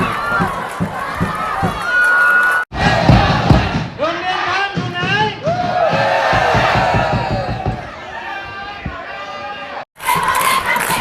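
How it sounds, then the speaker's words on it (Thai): A school cheering section roars at a youth under-15 football match: loud, dense shouting and chanting voices, with two brief dips to near silence. "บรรยากาศการกอนเชียร์ของโรงเรียนขอบคุณวิทยาครับ"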